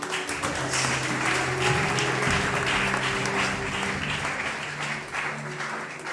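An audience applauds steadily at a French-language book presentation, a dense wash of clapping with a low hum of crowd noise underneath, holding fairly loud and even across the whole stretch.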